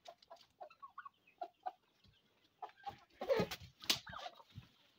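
Chickens and turkeys kept together on a home poultry setup give short, scattered clucks and calls, a few louder overlapping squawks in the middle, with no talking.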